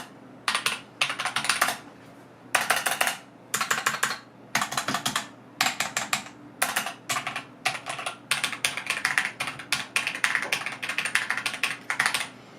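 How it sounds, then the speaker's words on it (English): Typing on an Xtrfy K4 mechanical keyboard fitted with Kailh Red switches: close, crisp keystrokes in quick bursts separated by short pauses, heard alone in a quiet room. "here's just a quick sound test of how these Kale or Raider switches sounds on the K4"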